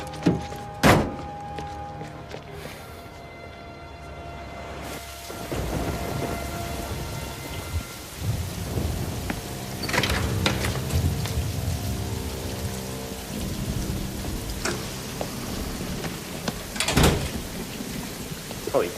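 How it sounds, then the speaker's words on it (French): Heavy downpour with rolling thunder, steady rain noise under several deep thunder rumbles and sharp cracks spread across the clip, close and loud. "Oh, il pleut à verse."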